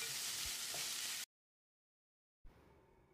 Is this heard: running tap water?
no